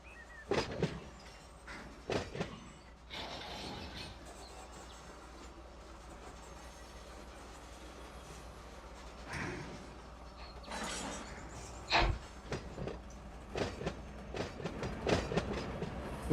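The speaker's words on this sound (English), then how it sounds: "I hear a train coming." A freight train approaching in the Run 8 train simulator game, a low rumble with scattered clanks and wheel clatter that builds toward the end, heard alone without voices.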